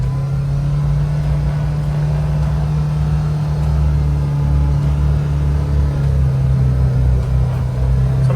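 A 2024 Kawasaki Ridge XR HVAC side-by-side pulls hard under throttle, a steady loud engine drone with deep rumbling low end holding for several seconds, close up and with no voices over it.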